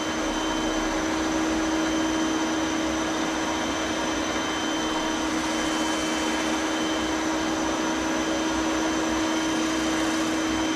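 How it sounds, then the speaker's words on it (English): Crank grinder grinding an Austin A40 crankshaft at slow speed, a loud constant steady whine and hum with no breaks. "start the crank grinder running on a slow speed, and then just feed the wheel in till I just see it starting to grind"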